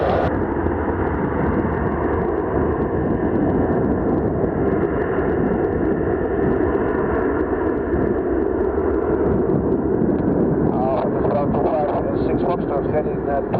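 A TUI Boeing 737-8 takes off at Doncaster airport, a loud steady roar of jet engines that holds for the whole stretch, broadband and unbroken, with wind buffeting the microphone and a voice talking over it.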